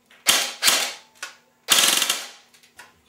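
A G&G GR16 airsoft gun fires on full auto in several sharp, rapid bursts of mechanical clicks: two short bursts, a brief single, then a longer, fast rattling burst and a few faint trailing clicks, close and loud.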